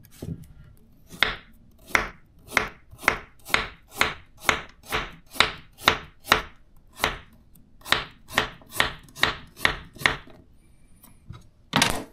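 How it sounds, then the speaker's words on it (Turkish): Steady fine chopping with a Zwilling self-sharpening kitchen knife on a cutting board, about twenty crisp, evenly spaced knife strikes, close and clear with no talking. "Bununla ince doğramaya bakayım."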